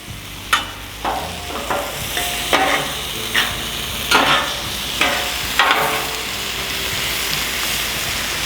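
Boneless chicken thighs fry in grease on a Blackstone griddle, a loud, close sizzle broken by sharp scrapes and clacks of a spatula turning the pieces every half second or so.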